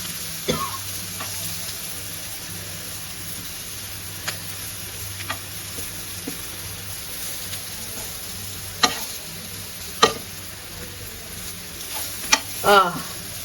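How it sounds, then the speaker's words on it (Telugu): Brinjal masala frying in a pan, with faint steady sizzle and a few sharp clinks of stirring against the pan, quiet and close. "సో దీనిని ఇట్లా నీట్గా వేయించుకోవాలి"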